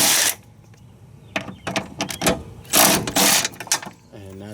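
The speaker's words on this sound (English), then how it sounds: "Now we got a extension, and we're just going to take these back two bolts off." Ratchet with an extension loosening the rear camber arm bolts on a 1992-2000 Honda Civic, giving bursts of close mechanical clicking and cranking in a garage, with pauses and someone talking between them.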